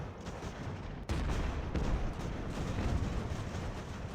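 Musket volleys and artillery fire from Hessian troops in a naval-era battle game, a continuous dense roar of massed gunfire and booms, louder after the first second, without speech.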